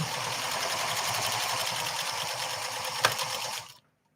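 PFAFF 360 sewing machine running a row of stitches, a steady close whirring hum that holds evenly for several seconds, gives a small knock near the end and then cuts off to silence.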